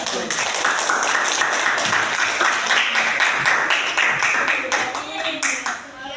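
A classroom audience applauds group 1's presentation with dense, steady hand clapping that carries on for several seconds and thins out at the end.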